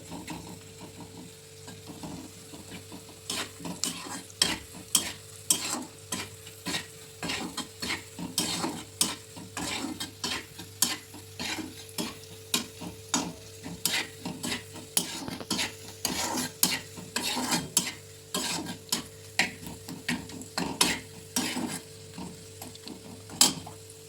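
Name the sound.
stirring and frying food with salt in a pan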